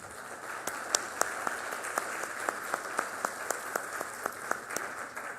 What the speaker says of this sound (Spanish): Villar y la doctora María Macarita Elizondo, a quienes recibimos con un fuerte aplauso.